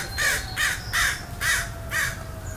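Crows caw in five loud, harsh bursts at a steady rhythm, sounding like birds squabbling close by outdoors over a low background hum; no one speaks.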